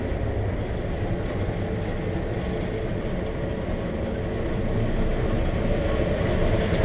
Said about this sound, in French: On va mettre en marche la coupe.